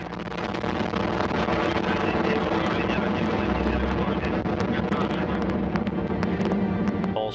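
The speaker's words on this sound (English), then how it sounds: "turbo pumps up to flight speed. Maximum thrust and liftoff." A Progress resupply rocket lifts off toward the International Space Station, a loud continuous roaring rumble that fills the whole stretch with no pause.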